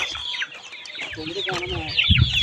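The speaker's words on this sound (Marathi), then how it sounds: "आमच्या कोंबड्या काय करायला लागल्या आत" Farmyard hens cluck in a gathered group near a field at lunchtime, a close, steady run of short clucks and calls with a person's voice briefly underneath.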